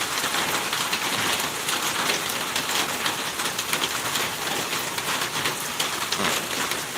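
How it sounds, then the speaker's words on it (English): Steady dense patter of rain drumming on a metal roof, a constant hiss of many drops with no voices, close and even throughout. "I'm just watching the rain, listening to everything on the tin roof."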